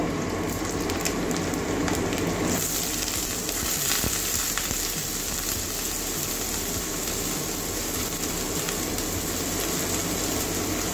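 Bitter gourd fries in plenty of oil in a pan, giving a dense, continuous loud sizzle and crackle with no voices.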